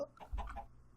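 Chickens clucking in Minecraft Sky Factory 3, a few short game-style clucks spread across a brief, fairly quiet moment with a sharper cluck at the end, no talking.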